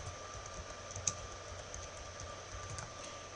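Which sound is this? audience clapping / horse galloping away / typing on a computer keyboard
typing on a computer keyboard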